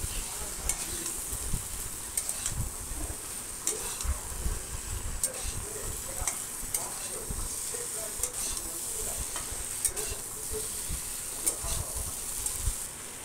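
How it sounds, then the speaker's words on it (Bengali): Fried potato and jackfruit are stirred with spice paste in a pan, with close, crackling sizzle broken by repeated scraping strokes of a spoon and no talk over it. "এবারে ভেজে রাখা আলু আর এঁচোড়টা আমি দিয়ে দিচ্ছি, দিয়ে মশলার সঙ্গে আলু এঁচোড়টা আবার ভালো করে কষিয়ে নেবো নেড়ে চেড়ে"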